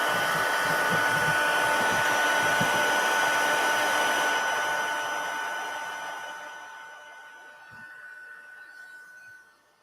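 A heat tool blows hot air over card-making materials, a steady, loud whirring hiss that holds for several seconds and then winds down and fades.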